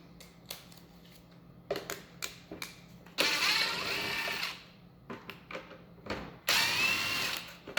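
Power screwdriver backing out two Phillips screws from the plastic top cover of an old lawnmower, two sustained whirring bursts separated by scattered clicks and handling taps, close and fairly quiet.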